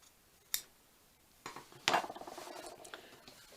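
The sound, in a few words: scissors cutting paper for a junk journal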